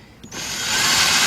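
A power tool spins up to tighten bolts on a window motor in a 2011–2014 Mazda 2 door, a short whirring drill sound rising quickly and holding steady, close and alone.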